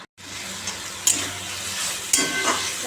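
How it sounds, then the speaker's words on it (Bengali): Potato and tomato with nigella seeds stir-frying in a pan, a steady bright sizzle with a few sharp spatula scrapes and knocks against the pan. "একটা আলু দিয়েছি টমেটো দিয়েছি দিয়ে এটা এখন ভালো করে কষাবো"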